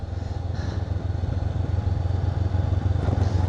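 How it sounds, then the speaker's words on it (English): Honda CB500X adventure motorcycle ridden over a bumpy road in Thailand, its engine giving a steady, loud low rumble with faint rattling and clatter from the rough surface throughout. "Yes, this is a bumpy road. Thankfully, I'm on an adventure bike."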